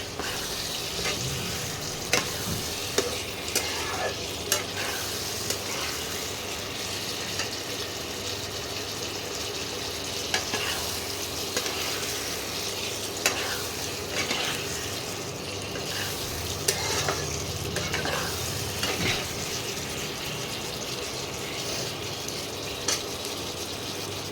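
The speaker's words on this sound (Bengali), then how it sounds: "এই মশলার সঙ্গে আলু আর স্কোয়াশ ভালো করে মিশিয়ে নিতে হবে" Potato and squash tossed with spices in a hot pan give a continuous sizzle, with a spoon scraping and clicking against the pan at irregular intervals.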